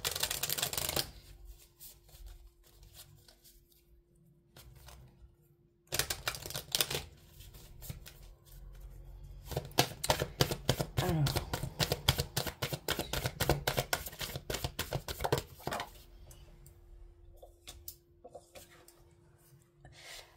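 Oracle cards being shuffled close up in bursts of crisp riffling flutter, a long rapid run in the middle flanked by quieter gaps and a steady low hum.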